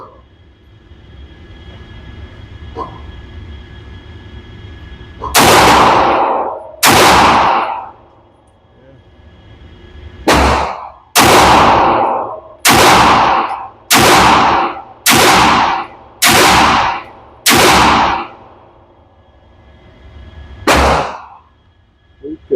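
A pistol fires 124 grain Fiocchi rounds at an outdoor range: about ten loud, sharp shots in irregular bursts, some in quick pairs, with quiet gaps between.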